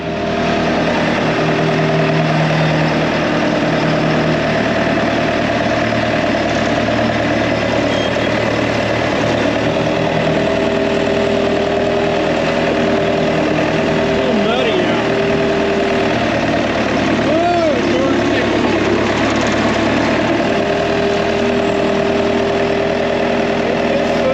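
A diesel tractor engine idles steadily throughout, a continuous low rumble with some faint background noises over it.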